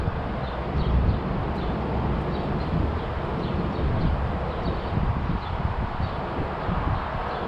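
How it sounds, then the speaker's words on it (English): Heavy wind buffets the microphone in low, rumbling gusts on a hilltop at Ridge Hill, Yonkers, New York, at sunset, a constant roar that swells and eases without any voices. "Kind of windy up here."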